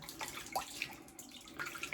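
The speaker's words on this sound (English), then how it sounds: "let's just put a bit of warm water in there" Warm water poured into a shaving bowl for wet shaving, a soft, low trickle and splash running steadily for about two seconds, faint and close with no talk.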